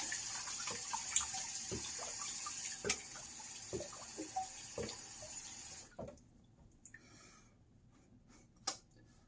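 Tap water runs in a steady hiss while a razor is rinsed after a shave with a pearl open comb razor and Derby Platinum blade, with a few small clinks; the flow cuts off about two-thirds through, leaving faint handling sounds.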